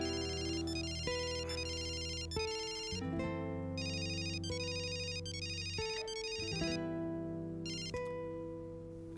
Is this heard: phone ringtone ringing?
yes